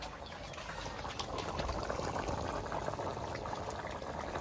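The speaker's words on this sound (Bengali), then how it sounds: "জল দেওয়া হয়ে গেছে, এবার তরকারিটা খানিকক্ষণ ফুটতে থাকবে।" Meat curry with young jackfruit and potato simmering in a pot after water is added, a continuous soft bubbling and gurgling heard close up with no speech.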